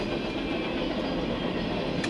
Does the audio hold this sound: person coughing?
no